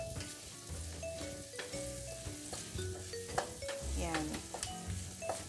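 Ground pork and onion fry and sizzle in a pan while a utensil stirs and scrapes, giving a steady crackle with clinks. A voice speaks briefly over it.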